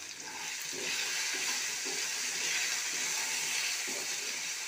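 Food frying in oil with salt and turmeric sizzles in a steady, fairly loud hiss, with a few soft stirring knocks under it and no talk.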